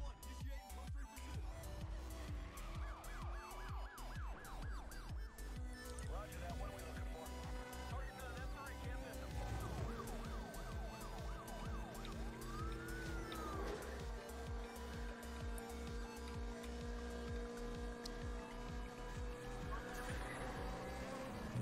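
A wailing police siren in the video game Need for Speed: The Run rises and falls over a dense electronic backdrop with steady rhythmic pulses, heard alongside buzzing, insect-like tones throughout.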